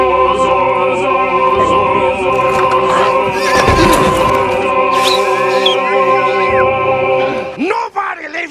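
A horse neighs loudly in a film scene, a long shrill whinny that rises and wavers over a busy soundtrack with other voices and noises, ending in a sharp snort.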